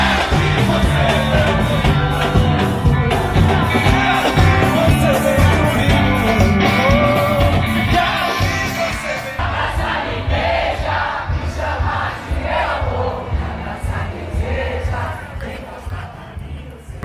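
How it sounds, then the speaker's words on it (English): A huge Carnaval street crowd surges past in São Paulo, a dense continuous roar of voices, shouts and music that stays loud throughout and thins slightly toward the end. "You're gonna see a huge crowd of people just pass by."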